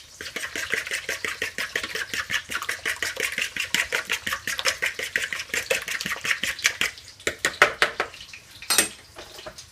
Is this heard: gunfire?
no